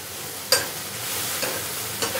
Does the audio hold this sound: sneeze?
no